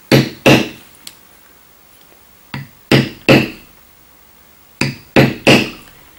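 A Barry King thumbprint matting tool struck with a mallet on leather: sharp, loud taps in small clusters of two or three, separated by pauses, with no talk.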